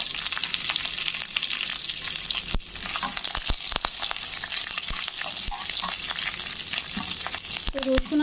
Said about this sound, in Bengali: রসুন আর কারি পাতাগুলোকে একটু ভেজে নিতে হবে।